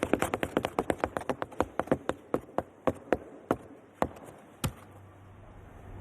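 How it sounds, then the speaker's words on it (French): Flamenco zapateado footwork stamped on ice skates fitted with microphones: a rapid run of sharp percussive strikes that gradually slows and spaces out, clear and close, with no talk. "Les zapateados, donc c'est les tapés des pieds."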